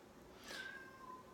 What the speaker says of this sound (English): cats are very talkative this morning